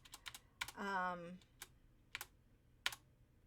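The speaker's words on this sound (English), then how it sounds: "you just click on the area you want and just type in whatever it is" Sharp clicks of computer keyboard typing come in short bursts and single taps, with a brief hum-like tone partway through, recorded close in a quiet room during website editing.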